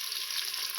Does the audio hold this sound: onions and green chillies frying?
yes